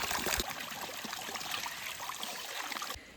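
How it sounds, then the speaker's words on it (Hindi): Water from a jungle stream pours and trickles steadily, a close, continuous bright rush with no other sounds. "गजब पानी आ रहा है यहाँ से।"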